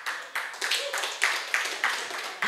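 A studio audience claps in rhythmic bursts, several quick waves of hand claps in a row, fairly close and lively.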